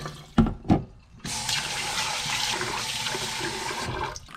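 Tap water runs while rice is washed in a home kitchen, with a couple of sharp knocks first, then a steady splashing gush of water flowing for several seconds before stopping.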